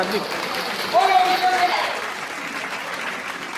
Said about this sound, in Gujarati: જોરદાર તાળીઓથી આપણે વધાવી લઈએ